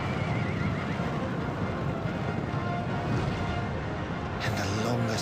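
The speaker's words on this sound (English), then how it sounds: "Soldiers and horses in red charged forth." Horses charging and neighing in a Gundam Generals video game battle at Sekigahara, with whinnies over a steady rumble of hooves and battle noise.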